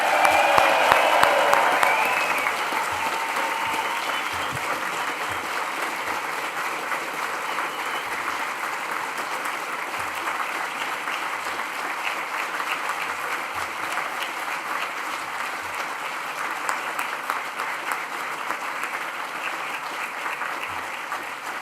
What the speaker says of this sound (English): let's celebrate with a huge cheer and round of applause